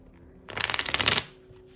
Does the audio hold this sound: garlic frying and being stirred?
no